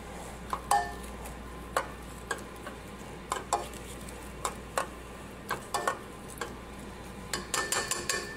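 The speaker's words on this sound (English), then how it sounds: "I'm just going to use a potato masher just to break those up a little bit" A potato masher works through strawberries in a pot for a homemade ice cream sauce, giving a series of soft, irregular squelching and tapping knocks against the metal, close by, with no talk.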